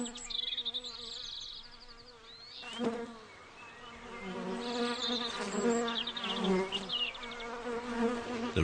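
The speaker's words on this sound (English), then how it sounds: "The honeybees carry the pollen back to the hive in the woodland garden." Honeybees buzzing in a woodland garden, a steady close insect drone with a few passes rising and falling over a faint background hum.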